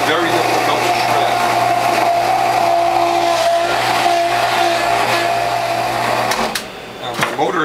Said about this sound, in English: Now the motor is working hard